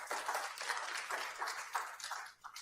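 Audience clapping at a live candidates forum for California's District 11 congressional seat, a steady patter of many hands with fluctuating intensity, moderately faint and heard alone without voices.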